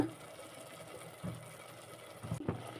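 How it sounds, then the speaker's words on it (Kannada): An electric mixer grinder grinding coconut with a little rice flour for a bean curry, a faint steady motor whir with a couple of soft bumps near the end. "ಸ್ವಲ್ಪ ಒಂದೆರಡು ಸ್ಪೂನಷ್ಟು ಅಕ್ಕಿ ಹಿಟ್ಟು ಹಾಕ್ಕೊಂಡು ಇದನ್ನು ರುಬ್ಕೊಳ್ಳೋಣ"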